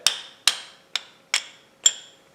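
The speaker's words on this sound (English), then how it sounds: "Lead hammer. So you tap on the small end of the shaft and then the big end comes out, right?" A lead hammer taps the small end of a shaft on an old Hendey lathe with five sharp metallic knocks at an even, unhurried rhythm. The blows are close and clear, and no one speaks.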